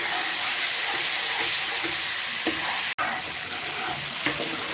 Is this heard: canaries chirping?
no